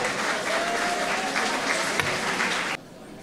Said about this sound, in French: Vous applaudissez la finaliste, s'il vous plaît.